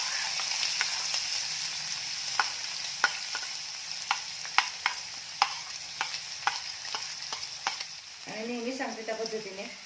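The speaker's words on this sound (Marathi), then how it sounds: "जिरे चटकले की यामध्ये बारीक चिरलेला कांदा घालायचा आहे" Finely chopped onion frying with cumin for a bottle gourd dish: a soft steady sizzle punctuated by a regular series of sharp spoon taps and scrapes, fading into a brief murmur at the end.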